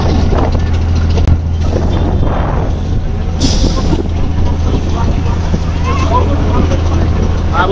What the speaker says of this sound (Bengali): এই ট্রলারটি ছুটে চলে যাচ্ছে সেই সুন্দরবনের উদ্দেশ্যে।